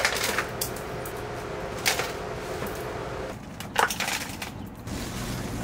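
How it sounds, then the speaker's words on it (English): Broken glass being scraped and cleared from the back window of a camper van, with scattered crunching and clinking bits over a steady background, a couple of sharper crackles standing out. "So we're trying to get all the glass out"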